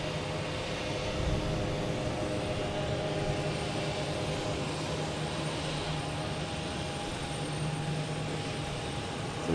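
A JetBlue jet airliner in from Detroit, at Boston Logan, makes a steady mid-level engine hum and whine that carries on unbroken with no speech.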